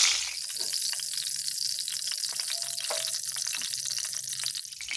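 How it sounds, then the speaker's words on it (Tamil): Quail pieces fry in hot oil with a steady crackling sizzle throughout, close and moderately loud, with faint clinks and watery bubbling. "இதே மாதிரி அடுத்ததையும் பொரிச்சுக்கலாம்"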